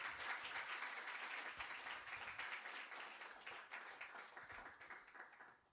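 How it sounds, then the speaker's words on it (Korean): A church congregation applauds at a Wednesday revival service to welcome a pastor to the front, a dense, steady wash of many hands clapping that fades slightly toward the end. "우리 오바댜 목사님 나오실 때 박수로 환영해 주십시오."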